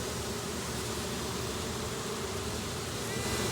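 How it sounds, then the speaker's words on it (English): A few bees buzz around a gazebo, a continuous soft hum of wings with no talking. "Just a couple bees here and there."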